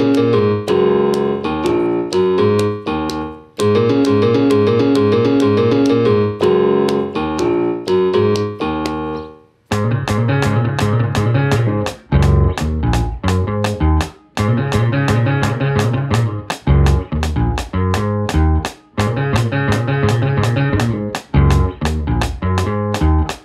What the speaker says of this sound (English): here's the bass part that he's playing